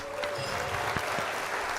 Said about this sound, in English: I'll give a round of applause for that quest.